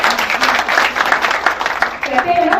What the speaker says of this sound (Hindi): एक ताली बनती है।